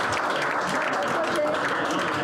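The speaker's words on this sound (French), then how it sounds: "Super, on l'applaudit encore," A theatre audience applauds steadily and loudly, a dense wash of clapping with a few voices mixed in, at a French stage show.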